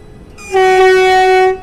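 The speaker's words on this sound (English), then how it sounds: "I've got to wait for that other train that's just coming in there." A train at London Bridge station sounds a loud, steady horn or whistle tone lasting about a second, rising in abruptly and cutting off cleanly, with no voices over it.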